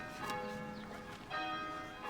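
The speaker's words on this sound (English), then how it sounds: "Those bloody bells." Church bells ring in a steady peal for a couple of seconds, with strong overlapping tones sounding from a moderate distance in an English village setting.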